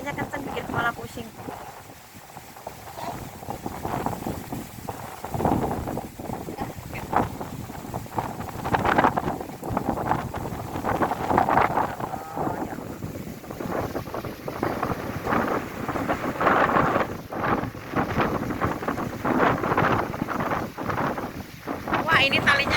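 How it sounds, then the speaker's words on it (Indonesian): Strong wind gusts roar steadily into the microphone outdoors, rising and falling in loud buffeting waves for the whole stretch, with people talking over it. "Anginnya kencang banget, kepalanya pusing."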